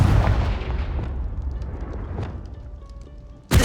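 A Confringo explosive spell blasts in Hogwarts Legacy, a heavy rumbling boom that decays over a few seconds before a second sharp burst hits loudly at the end.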